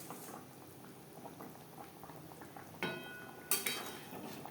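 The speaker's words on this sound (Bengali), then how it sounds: "গ্রেভি ফুটে ওঠা পর্যন্ত অপেক্ষা করব।" Gravy for a Bengali pabda fish curry bubbling and simmering in a pan, a low, steady wet crackle with small pops and a couple of brief metallic clinks near the end.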